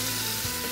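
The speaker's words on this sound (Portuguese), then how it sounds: "eu vou colocando a minha costelinha aqui" Pork ribs frying in a very hot pan for Chinese-style fried ribs, a steady loud sizzle that fills the whole short moment with no talking.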